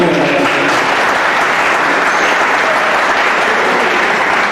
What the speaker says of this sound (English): Clap hands for me, come on